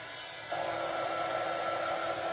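A hair dryer blows steadily to dry snowman craft pieces, switching on after a brief pause and running as a loud, continuous whoosh.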